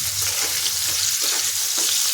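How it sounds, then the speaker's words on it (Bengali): Jackfruit stalks with turmeric and salt fry in mustard oil in a kadai, a steady, close sizzle with soft stirring scrapes breaking through a few times. "ডাঁটাগুলো ভালো করে ভেজে তুলে নিতে হবে।"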